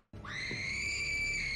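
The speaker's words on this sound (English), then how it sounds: "Why is he screaming like that?" A man screams in a scene from Marvel's X-Men film: one loud, sustained, high-pitched cry holding steady for over a second before cutting off, with no talk over it.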